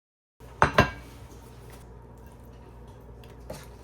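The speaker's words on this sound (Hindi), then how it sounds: "यहाँ पे हम मैकरोनी डिश आउट कर रहे हैं।" Creamy chicken macaroni being served onto a dish: two clinking scrapes of a utensil against cookware near the start, then a soft quiet stretch and a faint final tap, with no talking.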